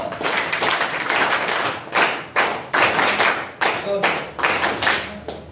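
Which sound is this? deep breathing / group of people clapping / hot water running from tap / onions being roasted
group of people clapping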